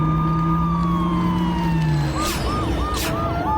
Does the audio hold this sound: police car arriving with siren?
yes